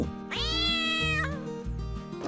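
Cartoon cat in a Minecraft-style animation lets out one long, loud, rising-and-falling meow lasting over a second, followed by lower tonal background music.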